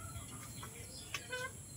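Hens cluck softly nearby in a faint, quiet setting, a few scattered short calls over low background noise.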